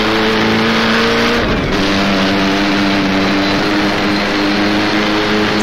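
A 1937 Grand Prix race car engine in the rFactor racing game roars loudly and steadily throughout, holding a high, buzzing drone with a brief dip and shift in pitch as the driver short shifts under acceleration.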